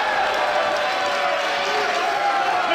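An unhappy crowd at a professional wrestling show reacts with a steady, loud wash of booing and noise that holds continuously throughout, with no single voice standing out.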